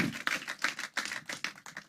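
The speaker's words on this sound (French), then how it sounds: "Donne-moi une main d'acclamation à Dieu." A church congregation claps in praise, a quick, fairly faint run of uneven claps with no voices over them.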